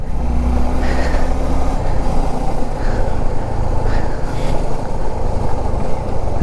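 Suzuki V-Strom 250 motorcycle cruising in third gear on a long solo tour, a steady low engine drone blended with heavy rushing wind noise, continuous and loud throughout with no talking.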